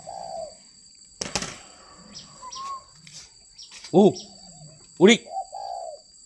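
At a dove breeding farm, a short burst of flapping wings is followed by two close, soft rounded coos from spotted doves, with a few faint chirps, in a quiet setting while people talk.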